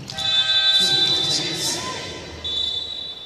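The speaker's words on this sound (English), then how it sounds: "Yeah, because of the buzzer." A loud electronic buzzer in an indoor volleyball arena during an international match, a sustained tonal blare that cuts off and returns briefly, heard over crowd noise and commentators talking.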